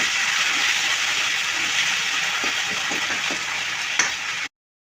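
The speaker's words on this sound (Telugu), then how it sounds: "ఇప్పుడు అదే ఐరన్ కడాయిలో ఆయిల్ వేసుకొని బిర్యానీ ఆకు, దాంతోపాటు జింజర్ గార్లిక్ పేస్ట్ కూడా వేసి పచ్చి వాసన పోయే వరకు వేయించుకుందాం" Bay leaf and ginger garlic paste fry in hot oil in an iron kadai, giving off a loud, steady hissing sizzle with faint crackles. It cuts off abruptly near the end.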